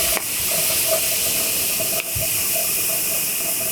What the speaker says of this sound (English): as you can see, the steam's coming out